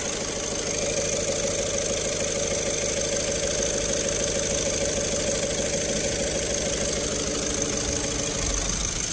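An Audi A1 Sportback idles steadily after a service and oil change, a constant mid-pitched engine drone with a faint rhythmic tick, close and unbroken, with no voices.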